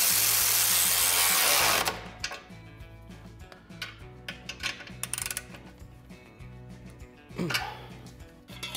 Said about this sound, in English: now you can tighten the factory clamp